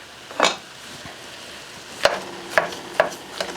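Minced garlic, about three cloves, drops into ground beef frying in a pan, giving a low steady sizzle broken by several sharp scraping stirs of a utensil against the pan, close and moderately loud.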